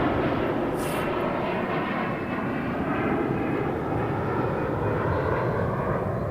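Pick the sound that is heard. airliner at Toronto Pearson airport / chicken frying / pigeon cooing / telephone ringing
airliner at Toronto Pearson airport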